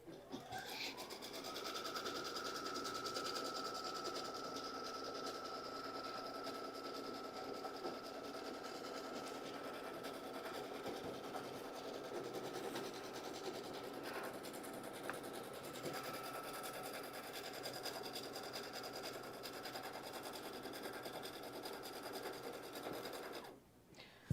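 An embroidery sewing machine runs a placement stitch straight onto stabilizer, a close, continuous rapid mechanical whirring and clatter holding steady for about twenty-four seconds before stopping abruptly.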